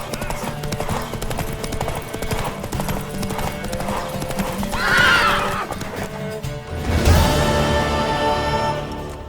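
A horse in The Witcher 3 trots with loud, rhythmic hoof clops and lets out two neighs. A character voice speaks briefly alongside the hooves.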